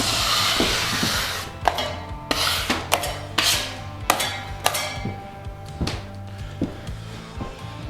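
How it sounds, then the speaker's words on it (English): An automatic drywall taper runs along a wall, pressing tape on with its drive wheels, giving a steady scraping rub broken by sharp clicks and knocks roughly every half second, close and fairly loud with no talking. "Now we're going to pinch our tape to the wall with our drive wheels."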